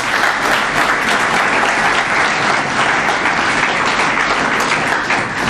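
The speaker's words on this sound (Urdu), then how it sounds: "تو جونیئر ونگ کے لیے تالیاں" A school audience gives steady, dense applause for the junior wing, loud and sustained throughout without a break.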